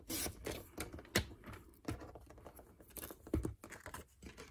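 Card stock base for a Stampin' Up! card being cut down to 5 inches, a few sharp close slicing and trimmer snaps separated by quiet gaps, with light handling noise between them.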